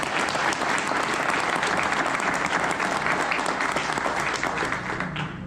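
Conference audience applauding a keynote speaker at a ceremony, giving dense, sustained clapping from a large crowd that stays loud throughout and tapers slightly at the end.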